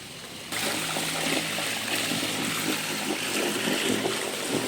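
Water rushes down from above at an eco park campsite in Infanta, a steady loud wash of flowing water starting abruptly and continuing without pause.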